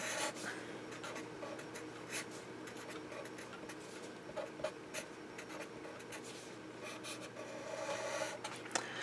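Fractions are written out on a board with a steady run of scratchy strokes and small taps, close and fairly quiet, with no speech over them.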